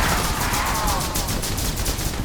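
Rapid automatic gunfire rattles loud and continuous at an Apache helicopter in a Call of Duty zombies game, a dense stream of sharp evenly spaced shots with no pause.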